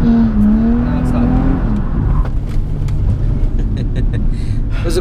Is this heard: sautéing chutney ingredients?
no